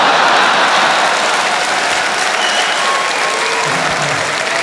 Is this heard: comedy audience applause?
yes